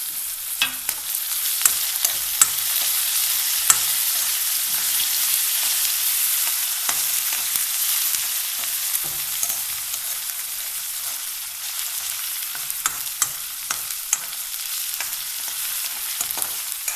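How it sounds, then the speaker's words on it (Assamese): Chopped onion with ginger, green chili and coriander sizzles steadily in hot oil for samosa filling, with frequent scraping and clicking spoon strokes stirring the pan close by and no talking. "এইখিনি অকণমান ৰঙা হ'বলৈ আমি"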